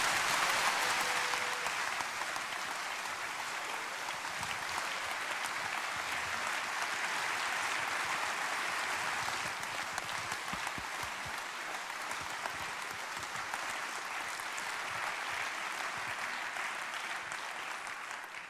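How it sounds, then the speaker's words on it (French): A university audience at an academic year opening ceremony keeps up a long, even round of applause for new colleagues, a dense wash of many hands clapping at moderate volume from across a large hall. "je pense qu'on peut collectivement tous les applaudir"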